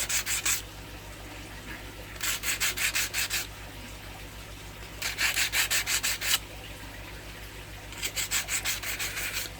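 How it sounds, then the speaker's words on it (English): Sandpaper rubbed along the edges of a glass shrimp tank: four bursts of brisk, rhythmic back-and-forth scraping, each lasting about a second, separated by pauses over a steady low hum. "we've sanded down all the edges now"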